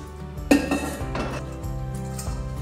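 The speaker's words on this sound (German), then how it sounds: "Nachdem ich die Töpfe abgespült habe, strahlen sie wieder wie neu." Pots and pans being washed and rinsed in a kitchen, with close metallic clanks and clinks of cookware against each other amid running, splashing water and no talk.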